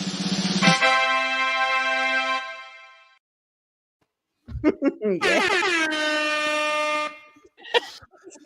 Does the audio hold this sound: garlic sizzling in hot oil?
no